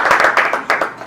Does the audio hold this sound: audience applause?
yes